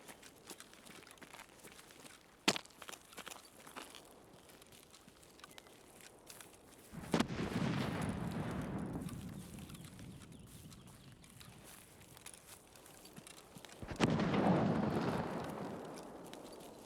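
Grenade explosions in Tarkov, a few loud blasts with a sharp crack near the start, then two heavier booms with long rumbling tails several seconds apart, alone without talk.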